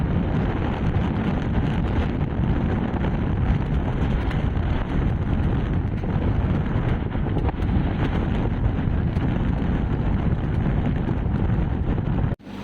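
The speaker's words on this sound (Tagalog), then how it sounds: "Malakas yung hangin ngayon." Strong wind buffets the microphone in a constant loud roar for the whole stretch near rocky islets in Palawan, cutting off abruptly at the very end.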